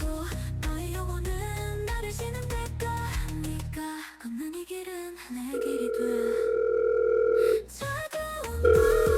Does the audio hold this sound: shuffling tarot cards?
no